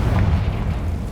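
Confringo spell blast in Hogwarts Legacy on PC, a single loud, deep boom with a rumbling burst that fills the short moment.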